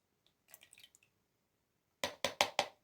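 Homemade hyaluronic acid serum being poured into a jug, a few soft scattered liquid trickles followed by four louder, close splashy glugs in quick succession.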